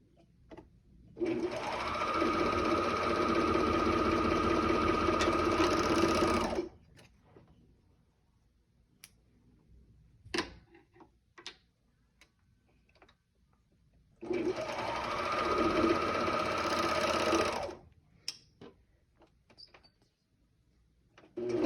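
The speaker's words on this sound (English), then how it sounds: "I'm going to start off just sewing the waistband and the leg bands on the raw edge." Sewing machine stitching the raw edges of a waistband and leg bands on shorts, two loud sustained runs of several seconds each, separated by quiet handling clicks.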